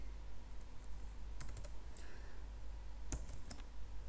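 G code being typed on a computer keyboard for a CNC milling program, a few scattered clusters of close key clicks over a low steady hum, with no talking.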